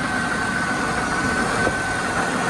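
A 1998 Buick Riviera's 3800 Series II supercharged V6 runs at a steady idle, an even, continuous mid-pitched engine hum heard close up with no talking.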